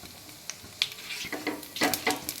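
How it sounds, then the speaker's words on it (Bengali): Whole spices, a bay leaf, dried red chilli and cumin sizzle as they are tossed into hot oil for tempering, with soft crackles and a few clinks of a spoon against the pan. "এই তেলের মধ্যে একটা তেজপাতা একটু শুকনো লঙ্কা একটু জিরে আর একটু গোটা গরম মশলা দিয়ে দিচ্ছি ফোড়নে"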